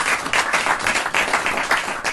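Live studio audience applause: close, lively clapping in uneven bursts that rise and dip across the moment, with no speech over it.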